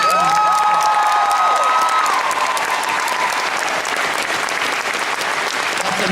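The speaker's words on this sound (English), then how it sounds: "can we get another round of applause for Paul?" A large convention hall audience at a San Diego Comic-Con panel bursts into loud, sustained applause with scattered cheers and whoops throughout.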